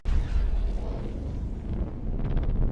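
A loud, rumbling explosion sound effect with a heavy low-end boom that swells and then rolls on as a sustained roar, with no voices over it.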